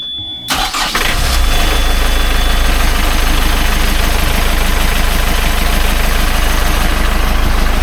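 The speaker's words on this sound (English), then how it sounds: "Yes, please, start the engine." A Yanmar 4JH4E marine diesel engine cranks briefly, catches and settles into a loud, steady idle with a rhythmic low chug that continues unbroken.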